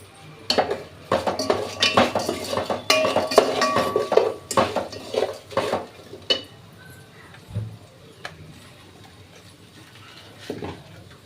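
Metal spoon scraping and clinking against a pot while salt is stirred into bagara rice, a busy run of close, irregular clatters that thins out toward the end.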